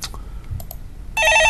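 A telephone starts ringing with a bright electronic trill near the end, loud and close, after a few faint clicks in a quiet studio during a stock market call-in broadcast.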